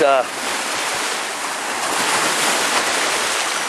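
Waves wash and break along a beach at Lower Largo, Scotland, in a constant roar, with wind buffeting the microphone up close.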